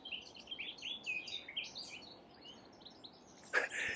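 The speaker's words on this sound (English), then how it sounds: "Listen to the bird song, absolutely belting it out." Several birds sing and chirp outdoors in the countryside, with overlapping bright calls repeating throughout at moderate distance and one sharper, louder call near the end.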